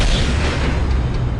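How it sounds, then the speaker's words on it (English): A heavy, sustained rumbling boom from the Titan cannon firing in Warhammer 40,000: Dawn of War – Dark Crusade, loud and dense like a massive cannon blast rolling on for over a second. "On my command, fire the Titan cannon."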